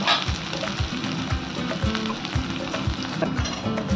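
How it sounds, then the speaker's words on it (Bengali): Onions fry in oil in a kadai pan for a soy chunks curry, giving a steady, close sizzle throughout with soft, regular thuds from stirring. "আমি কিছু পেঁয়াজ ভেজে নেবো তেলটার মধ্যে"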